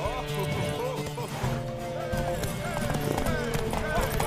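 Rapid clip-clopping horse hooves in The Witcher 3: Wild Hunt on PS5, over a busy background of music and game effects, with a horse whinnying now and then.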